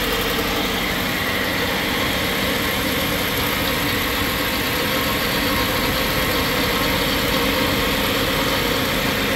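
A Subaru with worn wheel bearings, wheels turned fully to one side, gives a loud, continuous engine-and-drivetrain drone with a steady whirring hum close by and no talking.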